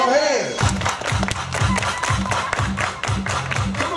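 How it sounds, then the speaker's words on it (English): Rhythmic group hand clapping at an upbeat event, with sharp claps in a regular repeating beat over music and loud crowd noise. "Everybody clap your hands."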